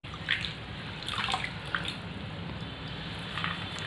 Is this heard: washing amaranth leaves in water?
yes